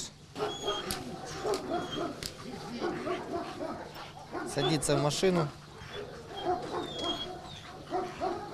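A police training dog barks and yelps excitedly several times, close by, with someone talking over it.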